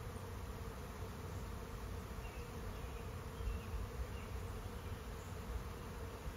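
A swarm of bees buzzes steadily and continuously at a moderate level, a dense insect drone near a hive with no voices.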